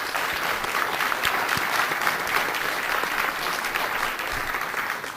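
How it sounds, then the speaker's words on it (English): Audience at a 2023 Louisiana state representatives political forum giving the candidates a sustained round of applause, loud and even from start to finish, with no speech on top. "How about a big round of applause for them?"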